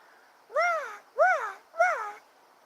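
Crows caw three times in an even rhythm, harsh arching calls, clear and moderately loud over a quiet background.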